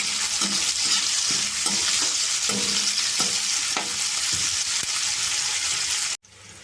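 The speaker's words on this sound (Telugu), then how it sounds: "ఉల్లిపాయ ముక్కలు పచ్చిమిరపకాయలు వేసేస్తున్నాం ఒకసారి" Onion pieces and green chillies fry in a pan of tempered spices, a steady close sizzle with intermittent stirring scrapes and clinks, continuous and loud until a brief cut near the end.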